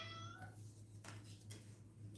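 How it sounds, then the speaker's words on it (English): A house cat meows insistently indoors, a short rising call at the start with faint repeats, fairly quiet over a steady low electrical hum, with no talking. "And my cat is at it again."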